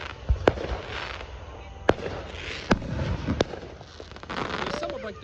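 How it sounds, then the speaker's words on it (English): Fourth of July fireworks go off outdoors in sharp, scattered bangs, about five distinct reports spaced a second or so apart over a steady crackling rumble, with people talking faintly in the background. "There's two sides of fireworks, you guys, back here and over there."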